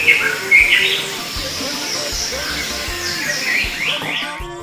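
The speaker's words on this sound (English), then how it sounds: "the peaceful mixture of the trees and birds singing give a clear sign of the perfect day to come" Birds singing on an island morning, chirps and tweets layered over a steady wash of ambient noise with low thumps scattered through, fairly loud and close.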